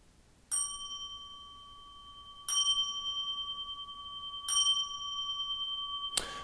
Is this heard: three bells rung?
yes